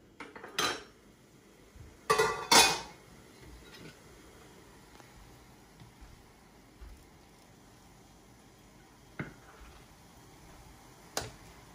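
Metal utensils clink against a pot while boiled milk-dough pelmeni dumplings are lifted out, a few sharp scrapes and knocks early on, then sparse faint taps in a quiet kitchen.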